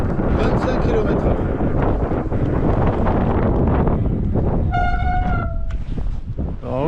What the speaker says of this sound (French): aujourd'hui on n'est vraiment pas gâté, on a du vent, on a de la pluie